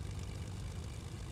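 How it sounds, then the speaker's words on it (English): A propeller plane in the video game Fortnite, a low, faint, steady engine drone that hums on without change for a moment with no voices. "I heard another plane over here."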